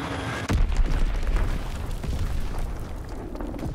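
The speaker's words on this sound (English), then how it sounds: "Azon bomb mission underway." An Azon bomb dropped from an aircraft exploding in a video game, a sudden deep boom followed by a sustained rumbling roar that fades slowly, with no voices.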